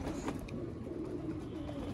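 Pigeons being taken out of their loft coo softly at close range. A few low, rolling coos sit against quiet background noise, with a faint brief chirp early on.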